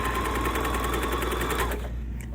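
A Berlina sewing machine stitches rapidly through thick fabric layers for a tulip bag, a steady close mechanical whir with rhythmic needle pulses that stops near the end.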